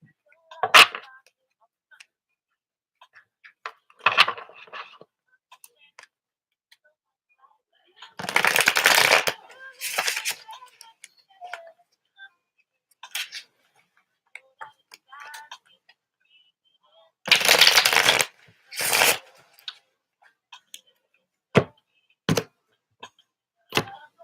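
Tarot cards are shuffled by hand in short, crisp riffling bursts, close and fairly loud, separated by quiet pauses with occasional soft taps and clicks.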